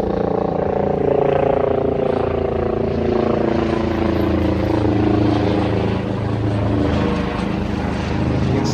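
A helicopter passes overhead above a retail park in Glasgow's West End, giving a steady, loud droning engine and rotor hum that holds evenly for the whole stretch.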